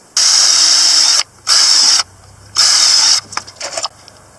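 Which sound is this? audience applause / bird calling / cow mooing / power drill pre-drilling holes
power drill pre-drilling holes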